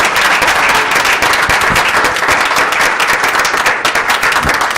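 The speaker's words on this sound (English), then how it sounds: "Give them a round of applause, guys." A crowd applauds the cast of a Hanukkah play, with loud, dense clapping that stays full and even for several seconds.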